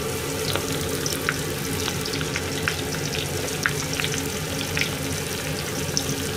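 Cabbage kakiage in flour batter deep-frying in a pot of oil, giving a steady, close crackling sizzle with scattered pops throughout and no talking.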